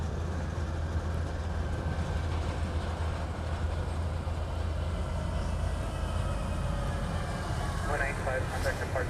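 Aircraft departing Honolulu airport, a steady broad roar of engine noise running throughout with a rising whine near the end, over continuous low rumble and intermittent radio-style talk.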